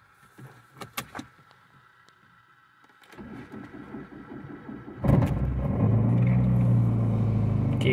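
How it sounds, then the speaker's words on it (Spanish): A Fiat Tipo car is cranked after a few clicks and knocks: the starter turns over briefly, drops, then the engine catches with a loud rise into a steady close idle rumble. "vamos a darle marcha a ver si arranca"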